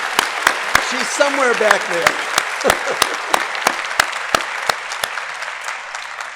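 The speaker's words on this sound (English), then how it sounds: "give her a round of applause" Audience applause at an undergraduate commencement ceremony, a steady wash of clapping with sharp individual claps cutting through, under a speaker's voice that comes in briefly partway through.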